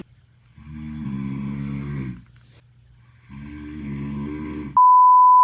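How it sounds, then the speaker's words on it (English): A sleeper snores loudly like a bull, two long droning, groaning breaths separated by a quiet pause, close and resonant, followed by a sudden steady electronic beep tone. "snored like a bull"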